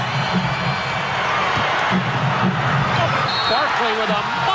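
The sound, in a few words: basketball arena crowd cheering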